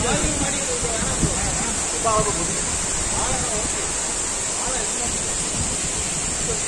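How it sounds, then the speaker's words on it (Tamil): Koriyaru Falls in the Eastern Ghats near Trichy, a waterfall pouring into a pool, roars as a constant broadband rush while people talk over it. "அருவி அருவி ஊத்துது"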